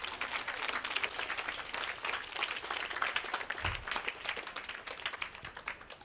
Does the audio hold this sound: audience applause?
yes